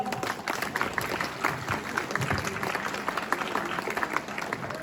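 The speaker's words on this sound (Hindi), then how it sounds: "एक बार तालियों के साथ स्वागत।" Audience applause at a school Independence Day function, greeting the principal as he comes to the stage; dense, steady clapping from many hands, fairly distant and continuous throughout.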